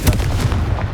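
A Confringo spell blast in Hogwarts Legacy: a loud, close burst with a booming low thump and crackling tail, part of a quick run of impacts.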